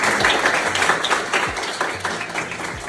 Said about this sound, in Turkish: Bir Mert hocamız da alkışlıyoruz.